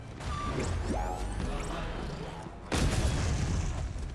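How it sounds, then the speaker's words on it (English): A loud, broadband burst in Borderlands 3 erupts partway through, rising sharply over a steady, dense backdrop of game noise and lasting to the end without any talk. "That's gonna explode."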